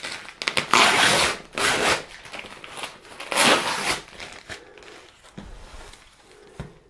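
Knife slicing open the cardboard packaging of a Contour Rollermouse Red Wireless, a series of close, scratchy rasping and tearing strokes in uneven bursts.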